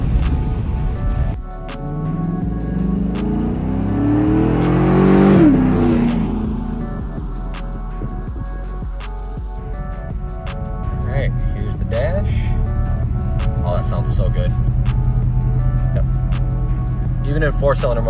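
A 2015 Chevy Silverado with a Borla S-Type cat-back exhaust revs and accelerates in a loud surge that swells and fades. A sustained engine drone follows, and an excited voice shouts over it.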